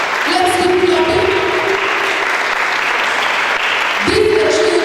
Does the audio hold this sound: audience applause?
yes